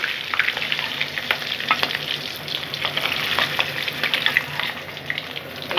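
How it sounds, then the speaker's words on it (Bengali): Hilsa fish pieces fry in hot oil, giving a dense, loud, continuous sizzle and crackle close up with scattered pops, no voices. "ভেজে নিচ্ছি"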